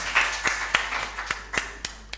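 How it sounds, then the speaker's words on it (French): Audience applause for a contestant at a UCMAS mental arithmetic competition: a moderate, slightly distant patter of many hands with regular sharp claps cutting through, alone without talk. "On l'applaudit s'il vous plaît."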